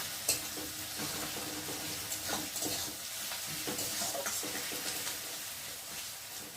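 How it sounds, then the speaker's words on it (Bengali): Garlic and onion fry in oil in a pan, a soft continuous sizzle with occasional stirring scrapes, fairly quiet and close, with no talking. "এবার রসুনটা পেঁয়াজটা ভাজা ভাজা হয়ে গেছে।"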